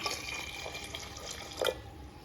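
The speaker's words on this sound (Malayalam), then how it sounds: "ആവശ്യത്തിന് വെള്ളം ഒഴിച്ചു കൊടുക്കാം" Water runs steadily into a cooking pot of green gram dal curry, a soft continuous splashing stream with a brief louder slosh near the end.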